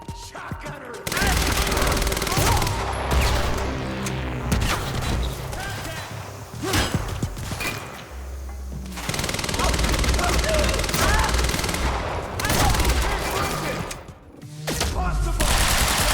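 Heavy sustained gunfire rattles through a firefight in Quantum Break, long loud bursts of automatic fire broken by short pauses, with shouted voices mixed in.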